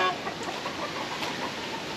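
Chickens clucking softly in the distance over a steady wash of outdoor background noise.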